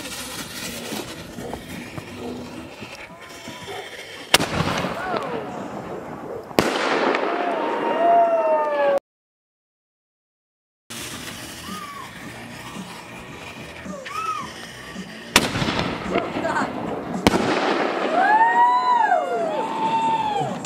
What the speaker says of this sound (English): So this is what we're going to shoot the fireworks off of.